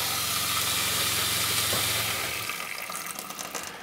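Antifreeze flowing from a pressurized hot-side faucet in a Winnebago Solis camper van during winterizing, a steady rushing hiss with a low pump-like hum that fades out and turns into sputtering spurts at the end.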